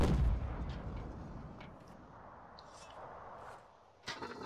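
An artillery cannon booms in a Napoleonic-era video game: one heavy, low blast at the start that fades into a rumbling tail, then a fainter thud near the end, with no voices.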